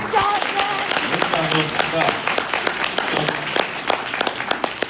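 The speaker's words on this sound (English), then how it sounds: "let's give him a round of applause, man." Audience applause at a homesteading expo talk on beginning beekeeping, a lively patter of close claps with voices talking over it at the start.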